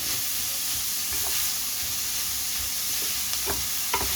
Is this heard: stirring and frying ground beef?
yes